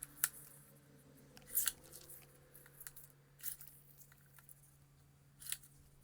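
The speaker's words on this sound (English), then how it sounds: "Let me cut out this milk receipt." Scissors snip through a paper milk receipt in a few short, crisp cuts spaced across a quiet room, with soft paper handling between them.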